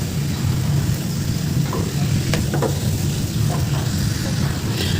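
Boiled cabbage fries in oil with a constant close sizzle and the scrape of stirring over a low background hum, with no voices.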